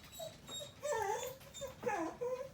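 A dog growls and whimpers close by indoors, a few low rumbling vocalizations broken into short whiny bursts, with no talking over it.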